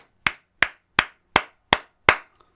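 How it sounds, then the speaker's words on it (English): Six sharp, evenly spaced hand claps ring out alone at a steady beat, each crisp and close, an applause effect for footballer Lionel Messi rather than a full crowd. "So round of applause to the little maestro"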